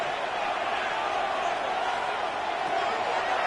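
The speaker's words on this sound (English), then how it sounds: "This crowd into it now as we get to 3rd down." A stadium crowd roars continuously in an EA Sports NFL playoff football game as third down approaches, a dense, even wash of cheering throughout.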